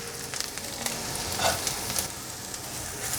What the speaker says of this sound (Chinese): 黑豆豉都吸饱油了，继续给它炒成香香的